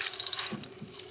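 A hand ratchet cranks in a quick run of about seven sharp clicks, close by, while loosening a 10mm screw on a broken-down minivan, followed by a couple of duller knocks.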